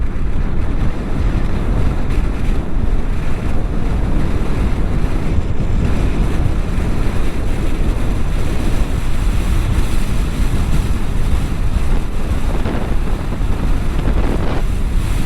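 Strong wind roars steadily across the microphone while riding a TVS Orbiter scooter, a loud, unbroken buffeting rush that covers everything else for the whole stretch.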